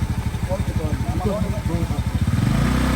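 A motorbike engine idling nearby in Bali, a steady close chugging pulse that builds slightly toward the end, with people talking over it.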